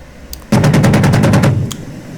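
The gun of an AH-64D Apache helicopter in the DCS simulator fires one loud, fast burst of about a dozen evenly spaced rounds, ending in a fading rumble.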